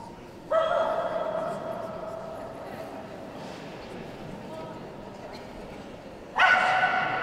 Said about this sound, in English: On the table now is the last dog to be judged in this Best in Show lineup, the Japanese Chin.